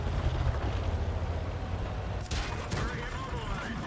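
A tank's 105 mm gun fires a single booming shot in a World of Tanks battle, a sharp loud blast partway through with a rumbling tail, over continuous engine and battle noise.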